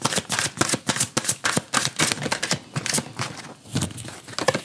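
A deck of oracle cards is shuffled close up in a rapid run of crisp, papery riffles and flicks that keeps going without a break.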